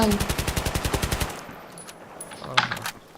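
Battlefield 3 team deathmatch gunfire: a fast, evenly spaced automatic burst of about a second and a half, then fading echoes and faint scattered shots with a muffled voice briefly audible.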